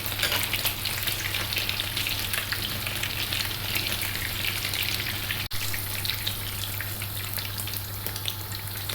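Greek-style börek frying in a pan with a steady, dense sizzle and crackle of hot oil, continuous and fairly close, with one brief click partway through.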